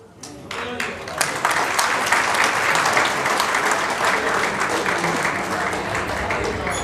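A crowd at a political rally applauds loudly, a full, sustained burst of many hands clapping that swells in quickly and holds steady for several seconds, with faint crowd noise beneath.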